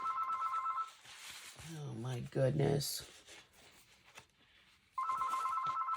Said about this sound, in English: Can we just ignore that phone?